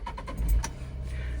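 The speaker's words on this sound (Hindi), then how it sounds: "तो पहले हम गाड़ी को स्टार्ट कर लेते हैं।" A Tata Nexon's engine cranks and catches, with a brief low rumble surge settling into a steady idle hum, close and moderately loud with no voices.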